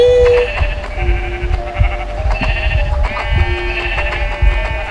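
Minecraft sheep bleat several times in short, nasal calls against a busy game soundscape with faint background thumps and tones.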